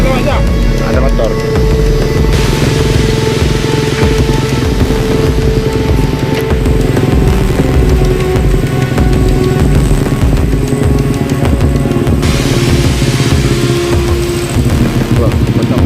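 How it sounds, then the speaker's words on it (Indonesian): Motorcycle engine running steadily on a rural road being built by villagers between Bireuen and Takengon at Wih Porak, a continuous loud drone with people talking over it throughout. "Ada motor."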